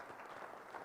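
A conference audience breaks into a steady round of applause, dense continuous clapping filling the room at moderate level with no break.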